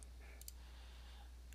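A computer mouse click, a single faint, brief tick against a quiet room with a low steady hum.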